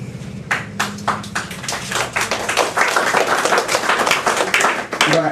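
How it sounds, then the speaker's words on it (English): Audience at a poetry reading breaks into clapping, sparse claps at first building into dense, close applause from a small crowd, with a brief voice heard at the start before the clapping. "You don't have to clap for all of them."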